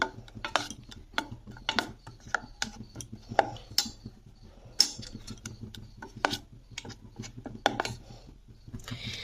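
Slices of pumpkin are stirred into a thick batter in a bowl while making kumro chop, a pumpkin fritter, giving faint, quick, irregular clinks and scrapes throughout with no one talking.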